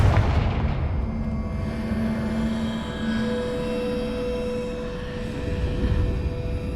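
Confringo blasting spell in Hogwarts Legacy, a loud booming explosion at the start trailing into a rumbling, ringing decay with game ambience beneath.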